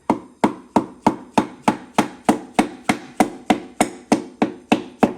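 Steady, evenly spaced taps drive a piston through a ring compressor into an engine cylinder of a 2009 Honda Pilot 3.5 J35 V6 that burns oil, about fifteen sharp, close knocks, each one clear with no talking.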